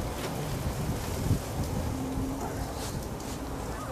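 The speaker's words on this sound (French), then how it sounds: "Il y a quand même un bon vent aujourd'hui." Strong wind blows outdoors in a steady, rumbling rush buffeting the microphone, loud and continuous with no talking.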